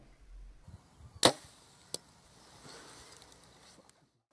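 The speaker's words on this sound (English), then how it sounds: "Dad completely missed a goat with his bow and arrow." A bow and arrow shot at a goat during a New Zealand hunt, one sharp close snap of the release followed by a second fainter thud, outdoors with quiet rustling around it.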